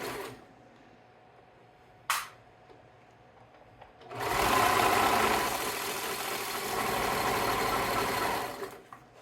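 A sewing machine stitches fabric at high speed: after a few short taps and clicks, a loud, continuous rapid whirring run starts and holds for several seconds before cutting off.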